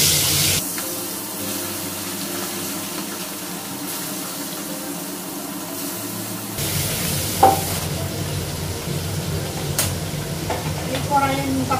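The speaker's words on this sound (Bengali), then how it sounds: "কড়াইয়ে নিম পাতাটা ভাজা করব।" Neem leaves frying in a little oil in a wok, a steady sizzle that swells louder partway through, with faint clinks and stirring.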